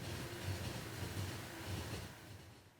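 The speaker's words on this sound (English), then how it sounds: "train sounds are cool." A train rolling along rails in the factory-building game Factorio, a continuous rumbling, clattering drone with a faint rhythmic pulse, steady and alone for a few seconds.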